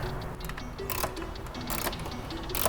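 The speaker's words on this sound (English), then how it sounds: "all I'm doing now is just tighten up that clamp, make sure that it's gripping on it" Air intake clamp being tightened on a BMW F30/F32/F36, with quick ratcheting clicks and metallic scraping in short bursts, close up and with no talking.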